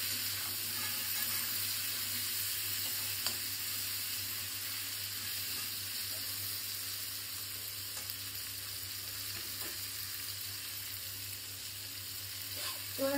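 Shelled peas with salt and turmeric frying in oil, a steady close sizzling hiss with occasional faint stirring clicks, continuous and alone without talk.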